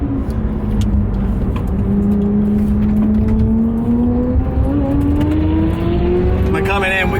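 A Porsche 911 GT3 RS 3.8 lapping a race track, its engine note climbing steadily through a long pull, loud and close, with wind and road noise underneath.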